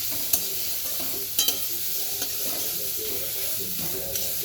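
Grated carrots fry in hot oil, a close crackling sizzle with spatula scrapes and a few sharp clinks against the pan, steady and moderately loud.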